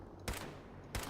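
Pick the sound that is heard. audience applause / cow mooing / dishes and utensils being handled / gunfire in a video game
gunfire in a video game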